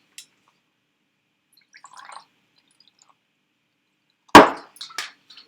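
Absolut Mandarin vodka poured into a small glass: a few faint drips early, then a loud close splash with a couple of trailing drips and clinks.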